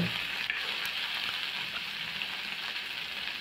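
Okra slices sizzle steadily in a hot pan, a close, even frying hiss with a faint clink near the start and no voices.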